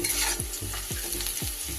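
Onions frying with salt in a pan for a cabbage-leaf paste dish, a constant loud sizzle punctuated by several rhythmic stirring scrapes of a spatula.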